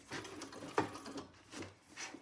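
A sewing machine named Thor stitches over a thick side seam while making a Jeanniebag shoulder piece, giving a soft, uneven mechanical whir with a sharper knock partway through.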